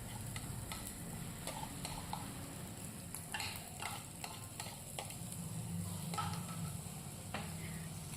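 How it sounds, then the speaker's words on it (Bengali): Ground jackfruit seed paste and prawns stirred together in a frying pan, giving a low steady sizzle with soft scraping strokes and light utensil ticks throughout, no talking. "ভালো করে নেড়ে চেড়ে কাঁঠালের বাটা আর চিংড়িটা ভালো করে মিক্স করে নিতে হবে।"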